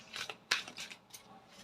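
Cards from a tarot deck being handled during a reading, giving soft papery rustles and flicks with one sharper slap midway, close and quiet with no talking.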